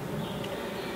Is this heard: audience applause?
no